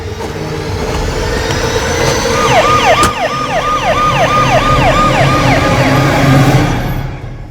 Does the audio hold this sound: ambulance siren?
yes